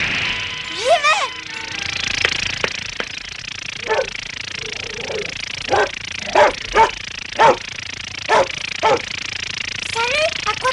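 A cartoon dog barks in a series of short, sharp barks spread across the clip, with voices talking around them and some whining yips near the start.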